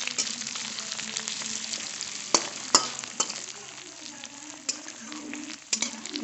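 Cauliflower florets sizzle steadily in a pan for an upma breakfast, with a continuous crackling hiss broken by a few sharper pops and clinks of stirring.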